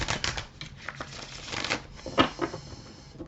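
A deck of oracle cards being shuffled by hand, a quiet close run of rapid riffling flutters and soft taps with brief gaps between passes.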